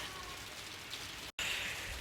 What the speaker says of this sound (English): it's legitimately raining